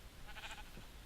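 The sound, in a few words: sheep bleating in Minecraft Aether 2 video game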